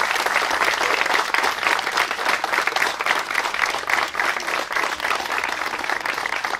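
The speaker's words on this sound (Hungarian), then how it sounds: "Akkor egy nagy tapsot az ifjú párnak!" Wedding guests break into loud, sustained applause for the newlyweds, a thick crowd of clapping hands that carries evenly from start to finish.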